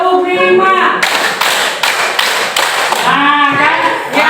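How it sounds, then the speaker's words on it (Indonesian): Classroom group clapping in counted patterns of two, three and five claps, sharp bursts of hand claps alternating with a teacher's voice speaking between them. "Tepuk 2, tepuk 2, tepuk 3, tepuk 5."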